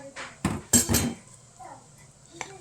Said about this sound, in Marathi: हे जे आपण ड्राय इन्ग्रेडियंट घेतलेले आहेत तर ते यामध्ये घालून घेऊया आणि हे आपण मिक्स करून घेऊया